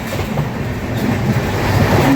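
An old ICF sleeper coach of the Prasanthi Express, an Indian passenger train, rumbles loudly from inside, with a constant low roar and faint rhythmic wheel clatter.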